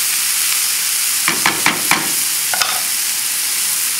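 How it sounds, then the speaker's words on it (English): Quinoa with tomato sauce and vegetables sautéing over a low flame: a loud, steady hiss of frying with a short run of four stirring scrapes and two more shortly after, close by, no talking. "So that's sauteing."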